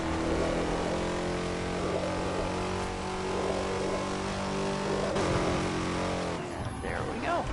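A car drives and boosts in the racing game Burnout Paradise, its engine droning steadily with shifting pitch and rising whooshes, loud and continuous with a brief change in tone near the end.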